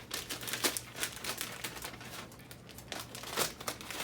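A plastic Ziploc bag holding milk, cream, flavoring, coloring and sugar for ice cream is handled and opened, giving close, repeated crinkling and rustling bursts throughout.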